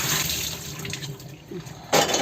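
Cold tap water runs over mushrooms being washed for mushroom Manchurian, a close steady splash and trickle with a sharper gush near the end.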